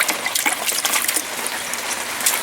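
Pond water from a small solids filter and waterfall feature is poured back into a bucket, making a loud, continuous splashing gush close by with no talking.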